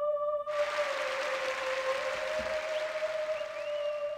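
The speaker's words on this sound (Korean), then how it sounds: "박수, 박수!" Steady crowd applause in the horror video game Hello Charlotte, bursting in abruptly and continuing evenly over a sustained electronic tone from the game's music.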